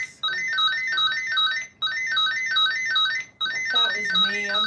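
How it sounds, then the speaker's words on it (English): An electronic alarm sounds in three bursts of a warbling, siren-like up-and-down tone, loud and close, separated by short gaps, with a faint voice underneath near the end. "This Womble set the alarm off."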